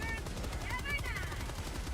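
Rapid automatic gunfire in Helldivers 2, with rhythmic bursts crackling at a moderate distance beneath faint overlapping voices and game noise.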